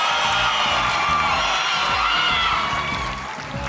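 A studio game-show audience cheering and shouting for a boy group, a loud continuous roar of voices and whoops with a steady pounding music beat underneath, easing slightly at the end.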